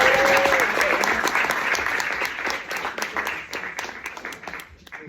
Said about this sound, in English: Can we just get a quick, big, warm round of applause?